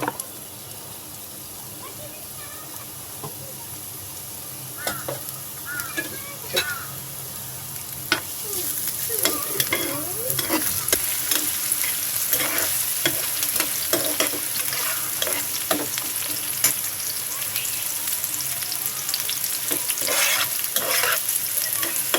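Onions frying in oil until golden for a hilsa-stuffed bitter gourd dish, a quiet sizzle at first that swells into a loud, crackling fry with frequent stirring scrapes, and a crow calling faintly in the background.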